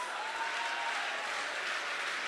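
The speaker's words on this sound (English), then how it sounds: "Clap for yourselves." Audience applause filling a large hall, dense steady clapping from many people at even volume throughout, with no pauses.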